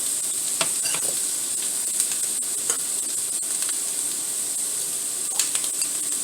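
Stir-fry vegetables sizzle steadily in a pan, a continuous bright hiss with occasional soft clicks and stirring scrapes, no talking.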